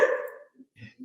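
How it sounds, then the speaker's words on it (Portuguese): A dog gives a single loud, close bark, followed by a few softer, brief sounds. "É porque ele está latindo aí e o Stitch está latindo aqui"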